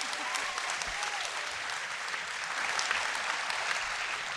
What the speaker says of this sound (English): How about a round of applause for these three farmers?